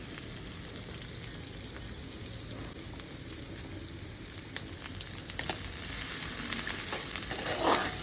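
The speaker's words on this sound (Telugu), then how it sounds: "దీంట్లోనే కొంచెం కరివేపాకు వేసుకుంటాం." Sliced onion, green chillies and curry leaves sizzling in hot oil in a pan, a steady crackling fry that grows louder and busier toward the end, with no talking.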